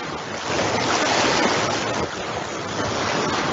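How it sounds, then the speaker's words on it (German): Sea waves wash in and recede in a steady, full roar of surf, rising and easing slightly over a few seconds with no voices. "Das Meer kommt und geht in Wellen, wie ihr es gerade hören könnt."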